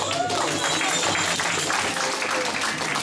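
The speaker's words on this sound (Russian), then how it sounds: "Спасибо, еще раз аплодисменты." Audience applause at a breaking dance battle event, with steady, dense clapping and crowd noise filling the room while a voice speaks over it.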